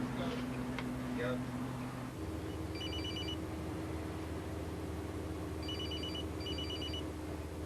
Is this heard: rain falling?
no